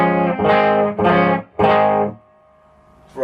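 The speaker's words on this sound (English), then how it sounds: "the sound of the bright switch" A hand-built 1978 Burman Pro 501 guitar amp with its bright switch off, carrying three loud distorted chords that each ring out and then stop, with a short gap of near silence before a fourth chord begins.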